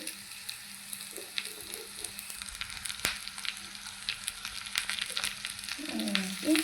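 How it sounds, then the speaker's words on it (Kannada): Steady sizzling of garlic, curry leaves and onion frying in hot oil with occasional stirring scrapes, continuous and close. "ಲೈಟಾಗಿ ಫ್ರೈ ಮಾಡ್ಕೊಳ್ಳಿ."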